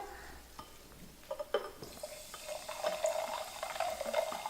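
Sparkling water pours into a cup, building into a soft, steady fizzing stream after a few light clinks and taps.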